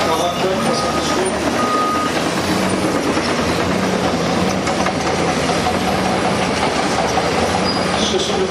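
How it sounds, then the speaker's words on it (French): A Caterpillar D8T bulldozer with a C15 engine runs close by at a demonstration center, a loud continuous diesel roar with clanking and mechanical rumble and a few faint beeps over the top. "Le nouveau D8T C15, le moteur C15 Star 3D, 40 tonnes, 70 chevaux."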